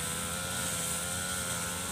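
A grass cutter engine runs at a constant speed, giving a loud, steady droning whine with no change across the short stretch and no voices.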